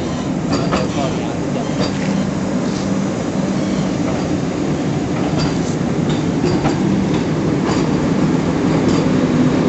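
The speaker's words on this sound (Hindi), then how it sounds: "मार दिया हॉर्न।" A Vande Bharat train pulls into Bareilly Junction on the Dehradun to Lucknow route with a loud, continuous rumble of rolling wagons and clattering wheels. Scattered sharp clicks run through it, and the roar stays steady throughout with no clear horn blast standing out.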